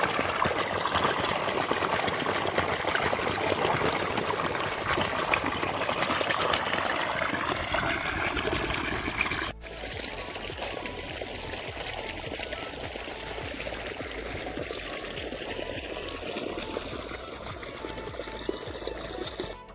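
Water running steadily across a flooded, irrigated village farm field, a continuous trickling and pouring wash heard close and fairly loud, dropping to a quieter, softer flow partway through.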